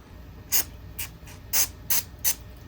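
Five short bursts of aerosol spray onto a Savage 93R17 rifle receiver during polishing, each a quick hissing puff separated by brief pauses, fairly close and otherwise quiet.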